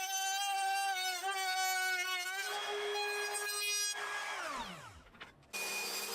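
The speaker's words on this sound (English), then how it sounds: "going to use a rebate bit in my router to cut a rebate for a bottom panel to sit in" A woodworking router fitted with a bearing-guided rebate bit cutting a rebate inside a wooden box: a loud, steady high-pitched motor whine that then spins down, its pitch sliding lower as the motor winds off, with no talking.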